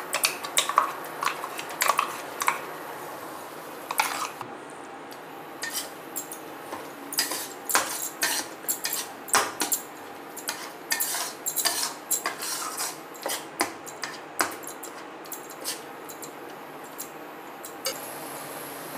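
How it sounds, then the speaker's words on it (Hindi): A spoon scraping and clinking in a pan while a paste of ground tomato, cashew, almond, ginger, green chilli and onion is stirred and roasted for paneer butter masala, with irregular metallic taps and no talking. "इसको खूब अच्छी तरीका से भूंजेंगे।"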